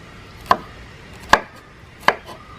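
Vegetables for a beef stir fry are chopped into one-inch pieces on a board, three separate sharp knife thuds spaced well apart against quiet background.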